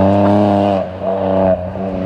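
Street-legal rally car engine revving close by, heard as a loud, throaty idle with strong harmonic rumble that dips twice and recovers, with no talking over it.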